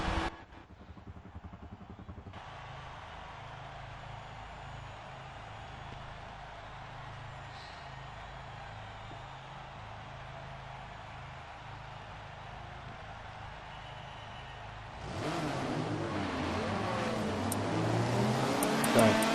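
Race cars idle and rumble together on the grid during a warm-up lap at Watkins Glen in a touring car racing video game, a steady engine drone that swells louder and busier near the end with revving.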